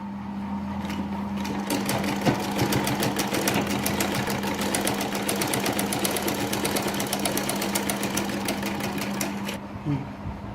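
A sewing machine runs steadily, stitching a kurti sleeve seam over an existing stitch line, a fast even rattling drone lasting about ten seconds before stopping.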